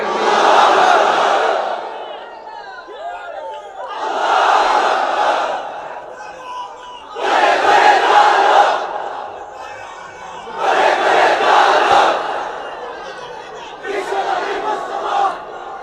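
Large gathering at a Bangla Islamic sermon chanting takbir in unison, five loud collective shouts repeating at regular intervals with short pauses between them.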